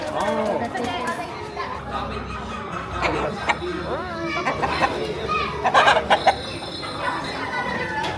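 Roosters at a cockfighting training ground, clucking and crowing in bursts among children's voices and people talking in the background.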